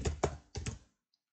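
A computer mouse double-clicks in an image-editing program, two quick pairs of close, crisp clicks about a third of a second apart, then quiet.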